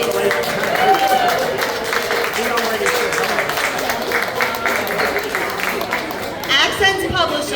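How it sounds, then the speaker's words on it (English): An audience applauds at a book release event with sustained, dense clapping throughout and voices audible alongside it. "Can we give Katerina a big round of applause, please?"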